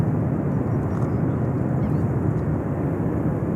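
A jet airliner at JFK Airport roars continuously on its takeoff run, a loud, steady, broadband engine rush without pauses or voices.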